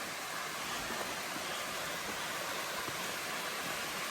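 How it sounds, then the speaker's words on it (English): Waterfall beside a wooden-stepped trail on Mount Moosilauke, New Hampshire: a steady, dense, close rush of falling water that stays even throughout with no talking. "Look at this waterfall, you guys."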